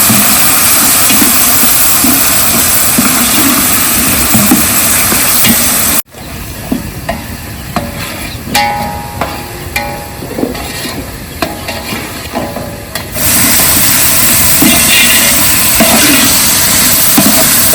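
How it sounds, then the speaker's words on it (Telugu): Coconut, ginger and garlic frying in a pan for mutton dum biryani, a loud steady sizzle throughout, briefly dipping mid-clip while the spoon clinks and scrapes against the pan, then returning to full hiss. "కొబ్బరి అల్లం వెల్లిపాయ ఇవి కొంచెం కొంచెం తీసుకొని ఇవి చక్కగా బ్రౌన్ కలర్లోకి వచ్చే వరకు వేయించుకుందాం"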